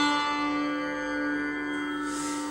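The sitar's thin sixth string, tuned to the higher octave D, plucked once and left to ring with a steady, shimmering, buzzy sustain, quiet and even, with no speech.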